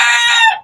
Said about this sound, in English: Like, oh, you guys got roosters.